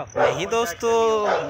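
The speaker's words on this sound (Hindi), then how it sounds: "कुत्ते भौंक रहे हैं जोर जोर से" Dogs bark and yelp close by in a short burst, with Hindi-speaking voices talking over them throughout.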